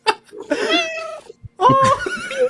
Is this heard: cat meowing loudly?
yes